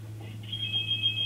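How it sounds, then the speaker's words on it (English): A stone phone rings in a video game with a steady, high electronic ringing tone that starts within the first half-second and holds over a low background hum. "my stone phone's going off again."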